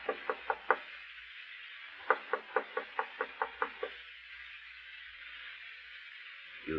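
A visitor knocking on a door: four quick raps, a pause, then a longer run of about eight sharp, evenly spaced knocks, clear and close against a quiet room.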